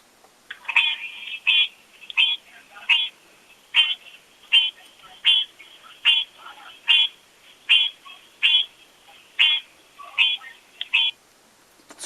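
A played recording of American green tree frogs calling: a long run of sharp, nasal, honking croaks repeated at a steady, slightly uneven beat, clear and isolated against a quiet background.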